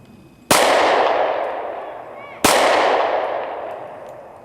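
Two loud gunshots about two seconds apart, each a sharp crack with a long ringing decay, fired at a vest made of 2000 Magic the Gathering cards.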